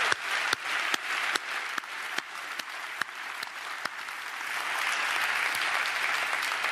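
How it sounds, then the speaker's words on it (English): Audience applause at a 2014 Microsoft Imagine Cup event for the competing student teams: scattered sharp claps at first, then building into a steady, full round of clapping from the crowd, with no talking over it. "give all of yourselves a round of applause because it's a fantastic team."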